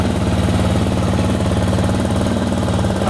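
A Mighty Hawk Chinese budget motorcycle engine idles loud and close, a steady, even rapid chugging pulse with no throttle changes.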